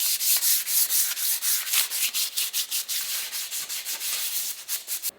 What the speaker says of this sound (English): give it a good scuff everywhere with 320